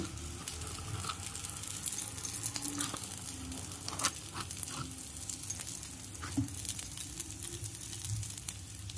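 Onion, cheese and butter frying in a home kitchen pan, a steady close sizzle with soft crackles and occasional stirring clicks, no talking.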